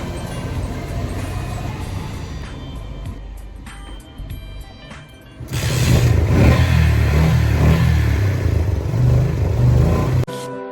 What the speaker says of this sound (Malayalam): എല്ലാം ഫിക്സ് ചെയ്തിട്ട് ആദ്യത്തെ അടിയിൽ തന്നെ സ്റ്റാർട്ടായിരിക്കുകയാണ്